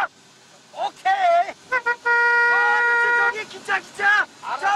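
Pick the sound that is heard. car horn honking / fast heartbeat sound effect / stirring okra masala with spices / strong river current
car horn honking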